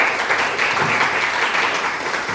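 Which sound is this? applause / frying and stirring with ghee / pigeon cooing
applause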